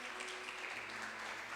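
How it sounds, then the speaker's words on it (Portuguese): A church congregation applauds during an evening sermon, the clapping a steady, moderate wash spread across the room without distinct individual claps, continuing evenly through the short span. "Aplauda o Senhor nessa noite"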